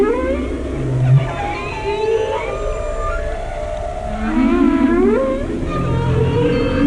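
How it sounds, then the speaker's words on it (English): Whale song from a web page plays loud and alone: long rising and falling moans, groans and swooping cries that overlap in slow, drawn-out phrases. "Share this whale song with your whale friends so they can learn about this page."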